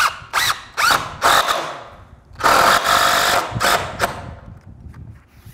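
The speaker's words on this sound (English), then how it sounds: "And I'll put my screw in here" Power drill driving a screw into the trim of an exterior door during a door replacement, several short whirring bursts in a row followed by a longer sustained run, close and loud with no talking.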